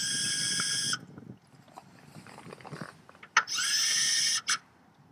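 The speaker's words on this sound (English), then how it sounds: "Now you can go ahead and install the remaining screws." A power driver whirs in two short, loud bursts, installing screws to hard-mount a folding tailgate table on a Jeep JK rear door, with quieter handling and rustling between.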